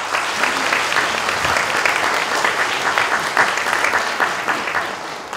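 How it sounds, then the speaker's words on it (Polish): Warm, sustained applause from the audience at a charity concert, a steady full-room clatter of many hands at moderate level with no voices over it. "Wielkie brawa dla Was."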